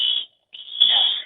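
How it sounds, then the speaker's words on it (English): A hotel alarm beeps in a shrill, steady electronic tone, cut by one brief silent gap before sounding again, loud and close, with a faint murmur beneath the second burst. "What is that? An alarm?"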